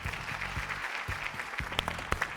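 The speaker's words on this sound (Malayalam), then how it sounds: "എല്ലാവരും ചേർന്ന് ആദ്യം നല്ലൊരു കയ്യടി കൊടുത്ത ടീമേക്ക്." A studio audience clapping for a team on a Malayalam TV game show, a brief dense burst of applause with a few sharper claps, fairly close and without talking.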